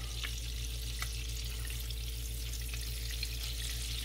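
A flounder fillet fries in a hot pan with lemon-infused olive oil, giving a steady close sizzle with a few soft crackles. A low hum sits underneath, and nobody speaks.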